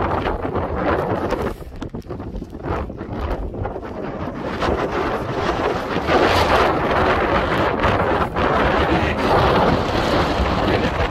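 Strong gusty wind buffets the microphone at an exposed wild camping spot, a loud continuous roar with surging gusts that swell and ease throughout.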